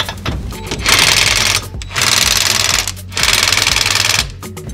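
A Parkside PASSK 20-Li A1 cordless impact driver hammers loudly up close in three sustained rattling bursts, each lasting about a second, with short pauses between them.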